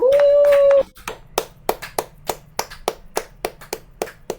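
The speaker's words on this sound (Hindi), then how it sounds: "जोरदार तालियां बजाइए" An audience claps in a slow, evenly spaced rhythm at a recognition event, the claps sharp and fairly close, following a sung or held vocal note at the start.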